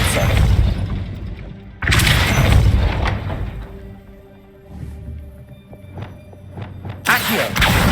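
In Hogwarts Legacy, the Depulso force-push spell goes off as deep, booming blasts, with a few heavy impacts spaced out and quieter thumps and rattles between them.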